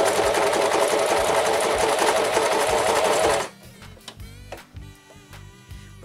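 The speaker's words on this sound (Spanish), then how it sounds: "Voy a poner mi cartón aquí para hacer una prueba. Y voy a hacer una pequeña costura." Sewing machine stitching a short test seam through cardboard for Russian-style bookbinding, a loud, steady rapid clatter for about three seconds that stops abruptly, followed by faint ticks and handling noises.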